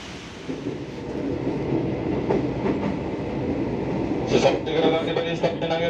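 A KRL commuter train runs on its rails between Tanah Tinggi and Tanah Abang, producing a steady rumble with some brighter rattling near the end, while a voice talks over the noise.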